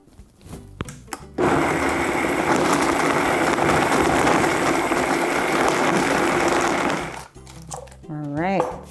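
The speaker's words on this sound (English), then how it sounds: "All right, let's get this blending." A countertop blender whirs at high speed blending a coconut milk and coconut water breakfast smoothie, a loud steady motor roar that starts abruptly, runs several seconds and stops, with a voice speaking before and after.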